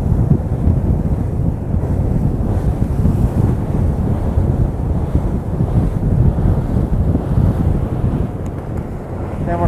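Strong wind roars continuously over the microphone, mixed with the rush of water against a moving boat off Valdez, Alaska, loud and unbroken throughout.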